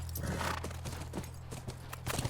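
Horse hooves clip-clop at a steady walking rhythm in The Last of Us, close and clear over a constant low game hum, with a brief whinny-like sound.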